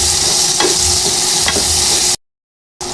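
Pork browned with onion and garlic sizzles loudly in a pan while being stirred, with a steady broadband hiss, a few scraping strokes of the spoon, and then a brief cut to silence before the sizzle returns.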